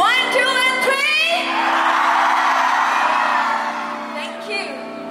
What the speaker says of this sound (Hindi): मैं 1 2 3 बोलती हूँ, उसके बाद आप लोग एक बार चीख दीजिए मेरे लिए प्लीज।